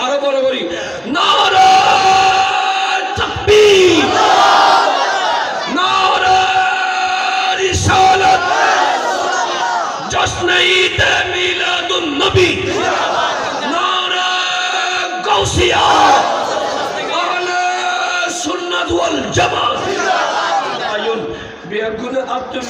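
A large crowd at a Bangla Islamic religious sermon gathering shouts a takbir response in repeated loud, rhythmic collective bursts, with a preacher's amplified voice leading between the shouts.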